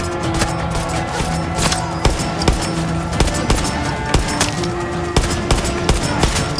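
Gunfire in Far Cry 6 cracks out as repeated loud, sharp shots in bursts and single reports, close and prominent, with a steady musical or ambient drone running underneath.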